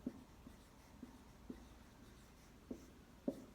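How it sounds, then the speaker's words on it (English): Marker or chalk writing on a board in a classroom lecture, faint intermittent taps and short strokes spaced about half a second to a second apart, quiet and close. "I'll write that down"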